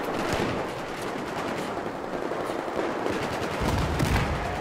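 Battlefield 4 gameplay with a QBS-09 shotgun firing amid a busy battlefield, repeated sharp blasts over dense background gunfire and explosions, loud and continuous throughout.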